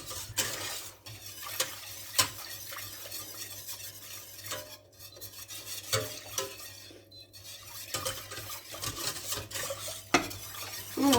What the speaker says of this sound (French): On mélange jusqu'à ce qu'elle commence à.